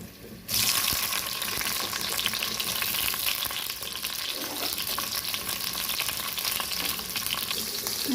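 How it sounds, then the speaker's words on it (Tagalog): Onion, garlic and tomato sizzle and fry in hot oil for a chicken, potato and egg curry, a steady loud crackling hiss with occasional stirring, no talk. "Gisa natin ang onion, garlic, at kamatis."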